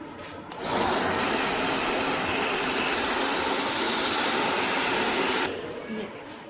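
A hair dryer switches on during a multi-layer haircut, giving a loud, steady close blowing roar for about five seconds before cutting off abruptly.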